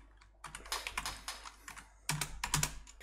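Someone types a line on a computer keyboard at close range, producing two quick bursts of crisp key clicks separated by a short pause, in a quiet room.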